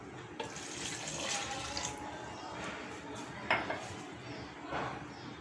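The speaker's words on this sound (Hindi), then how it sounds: "अब इसमें एक ग्लास में दूध डाल दूंगी इसमें" Milk is poured from a glass into a jug of cubed mango. A soft liquid trickle runs beneath faint clinks of kitchenware, with a few sharper taps, all quiet and close.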